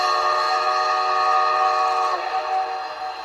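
A Zimo MS950 sound decoder in an LGB Forney model steam locomotive gives one long, steady steam whistle, loud and close, with a sustained chord-like tone that fades slightly near the end.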